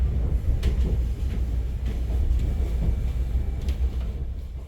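A slow express train rolls steadily along a remote rural line, a continuous low rumble with faint rattling and a few soft clanks, heard close and alone without any voices.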